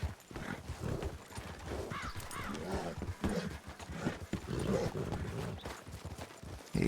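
Horse hooves clip-clop in a RedM roleplay game, rhythmic steps running under near-continuous conversation between players.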